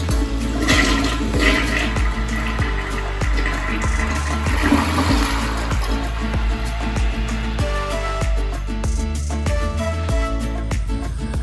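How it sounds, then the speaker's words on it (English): A household toilet flushes in a Florida house, with a loud rushing swirl of water draining and refilling steadily for several seconds close by, and no talking. "we don't get a double flush and we get enough flush for it to work appropriately"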